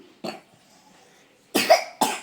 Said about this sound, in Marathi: खोकला झालाय